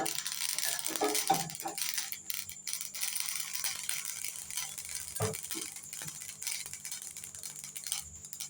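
Mustard seeds and fenugreek crackle and pop in hot oil in a pan while mango pickle is made, a dense, irregular sizzle with scattered sharp pops close by.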